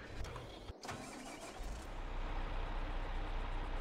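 A new tractor's engine in Farming Simulator 22 cranks, briefly drops out, then catches and settles into a steady, loud, continuous rumble that builds slightly as it runs.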